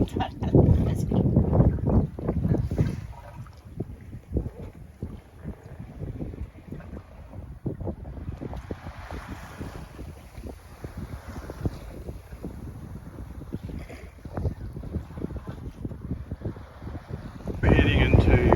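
A sailboat under way in about 13 knots of wind on the Gulf of Fethiye, with steady wind rush across the microphone and water noise throughout, and brief louder gusts at the start and end.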